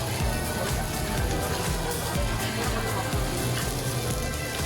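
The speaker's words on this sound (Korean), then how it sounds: "돌판에 지글지글 잘 구워지는 닭갈비의 소리가 들리시나요?" Spicy Chuncheon dakgalbi chicken sizzles on a heated stone plate at a restaurant, giving a steady, dense crackle and hiss throughout with a faint low murmur beneath.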